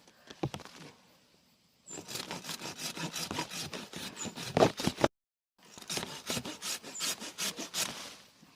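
A hand saw rasps through a tree branch in rapid back-and-forth strokes, close and steady, with a brief pause before the sawing resumes.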